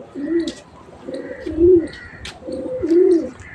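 Pigeons on a rooftop give soft, throaty coos in three close, evenly spaced bouts, each a rolling, warbling call, with light bird chirps between them and no talking.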